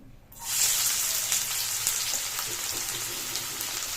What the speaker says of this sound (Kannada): ಎಣ್ಣೆ ಕಾದಿದೆ ಸೊ ನೀವು ಇವಾಗ ಚಿಕ್ಕ ಚಿಕ್ಕದಾಗಿ ಕಟ್ ಮಾಡಿ ಇಟ್ಕೊಂಡಿರೋ ಈರುಳ್ಳಿನ ಹಾಕೋತಾ ಇದ್ದೀನಿ